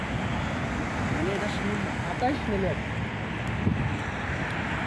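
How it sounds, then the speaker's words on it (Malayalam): Strong cold wind at Al Wakrah beach buffets the microphone with a constant roar, while a faint voice speaks briefly underneath. "നല്ല തണുപ്പ് കാറ്റുണ്ട്."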